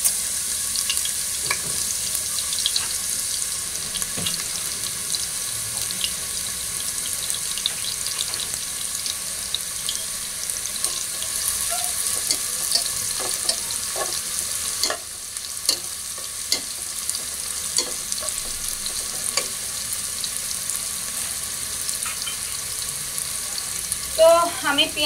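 Chopped onions fry in hot soybean oil in a frying pan, giving a steady, close sizzle with occasional stirring clicks throughout, and no voices.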